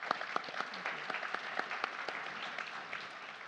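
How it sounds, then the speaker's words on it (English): A conference audience applauds a panel of speakers on global energy economy and policy, a dense, steady wash of many hands clapping, moderately loud and continuous throughout. "if we could give them a round of applause"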